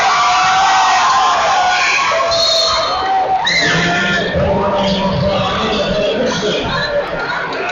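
Basketball game crowd at a Walter Murray versus Balfour high school match reacting with loud sustained roar, shouts and yells, dense and close throughout, with a rising wave of disapproval partway through.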